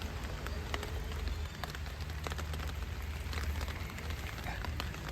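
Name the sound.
rain falling in Amsterdam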